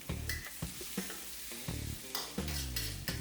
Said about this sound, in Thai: หลังจากนั้นใส่กุ้งไปได้เลยครับ เร่งไฟแรงนะครับเพราะว่ากุ้งค่อนข้างจะสุกง่ายนะครับ